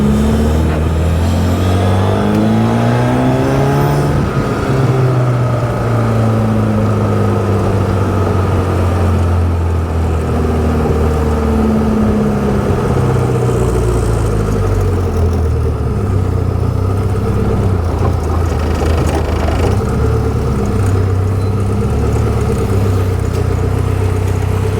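Austin Healey Bugeye Super-Sprite engine loud and close, revving up and down in repeated swells before settling to a steady idle, continuous throughout with no talking.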